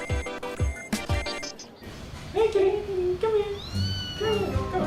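An augmented reality cat gives a few drawn-out, wavering meows after a stretch of clicking and tapping, heard up close alongside other background sounds.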